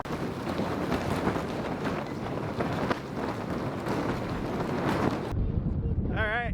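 Strong wind roars across a homestead, buffeting the microphone with loud, continuous gusts before easing, and a voice speaks briefly near the end.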